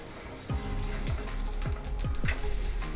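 Spinach thalipeeth frying in oil in a pan, a steady loud sizzle throughout with a few soft scraping or turning sounds from a spatula.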